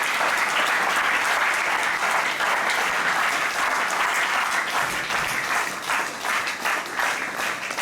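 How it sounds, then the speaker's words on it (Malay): Thunderous applause for year 6 pupils at a Malaysian primary school assembly, a continuous, loud wash of many hands clapping that holds steady throughout. "Tepukan gemuruh untuk murid tahun 6 kita."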